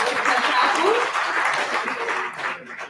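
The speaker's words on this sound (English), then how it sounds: "Another round of applause for Mr. Tabu" Meeting audience at a national dialogue in Uganda applauding, a dense steady patter of many hands clapping that fills the whole stretch and thins slightly toward the end, with voices mixed in.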